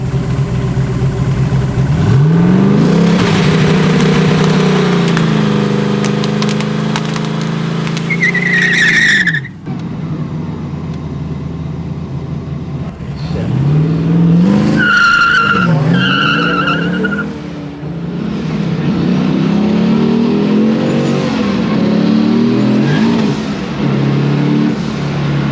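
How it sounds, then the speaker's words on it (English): A 1000bhp LS-powered Datsun 280Z drag car roars loudly through repeated hard accelerations, its engine note climbing through the gears with screeching wheelspin, briefly easing between pulls, on a drag strip run. "no boost in 1st, no boost in 2nd, and I just squeezed it in 3rd, wheel spun"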